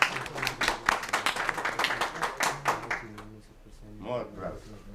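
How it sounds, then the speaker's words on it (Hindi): Audience applause at a hospital seminar on social media, a burst of sharp, rapid hand claps from a modest crowd that tapers off after about three seconds, followed by a voice speaking. "आप सबकी भरपूर तालियों में डॉक्टर अलीम ज़फ़र।"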